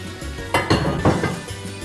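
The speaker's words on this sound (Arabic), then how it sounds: "ونديله تقليبة." Meat and vegetables being stirred in a cooking pot with a spoon, with several clinks and scrapes against the pot in close, irregular bursts.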